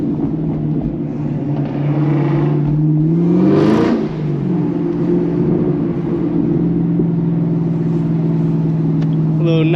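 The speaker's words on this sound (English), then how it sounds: "A little night drive through the city" A car hums steadily on a night drive through a city, its engine drone close and continuous, with one rising rev-like swell partway through.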